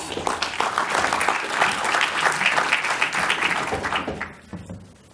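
Conference audience at an industry session on video-on-demand applauds a speaker coming on stage, with a few scattered claps building into full applause that fades out near the end, leaving sparse isolated claps.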